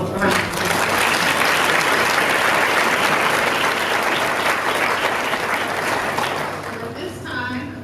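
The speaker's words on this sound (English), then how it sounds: "Let's give them all a round of applause." Sustained applause from a large audience at an award ceremony, loud and dense throughout, easing slightly toward the end.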